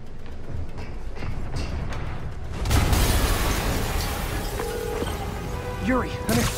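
Explosion in a Spider-Man game, a sudden broad burst that swells into a rolling blast and lingering rumble with debris crackle, loud after a quieter opening with voices.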